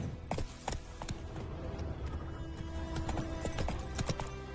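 Hooves of the horse Roach clip-clopping in a quick, irregular rhythm across ground in The Witcher 3, close and clear with a faint mechanical rattle and no talking.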